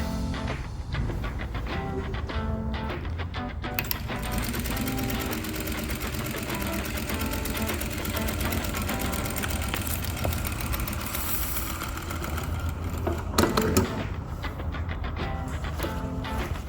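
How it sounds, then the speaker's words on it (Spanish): A Silverman S298 two-motor sewing machine sews a straight stitch, a steady mechanical whirr and rapid needle clatter running continuously, close and fairly quiet, with a brief louder burst near the end. "Vamos a comenzar con lo que es la puntada recta sencilla que tiene esta máquina."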